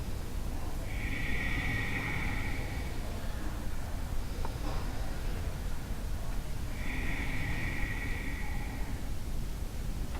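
Two slow, drawn-out breaths, each lasting about two seconds and spaced well apart, during a chair yoga breathing exercise as the belly is pressed in towards the spine. The breaths are close and soft over a steady background hiss.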